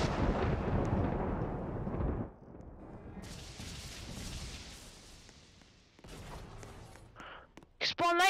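Stormbreaker lightning in Roblox Thanos Simulator, as Thor's weapon unleashes a heavy rumbling blast that cuts off abruptly, followed by a quieter roaring tail, then short sharp bursts and clicks near the end.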